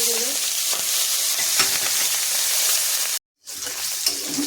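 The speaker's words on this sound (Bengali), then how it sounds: "এবার মাছগুলো দিয়ে দিচ্ছি মাছগুলো ভাজি করার জন্য" Fish frying in mustard oil in a wok, a steady loud sizzle with stirring scrapes, briefly cutting to silence near the end before the crackling frying resumes.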